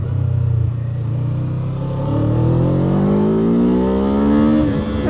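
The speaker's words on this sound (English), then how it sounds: "once the engine is running, it sounds like a little Ninja 500" A 2025 Kawasaki Ninja 7 Hybrid sport bike engine revs up under acceleration in sport mode, a loud, steady close-up drone whose pitch climbs smoothly over several seconds with no talking.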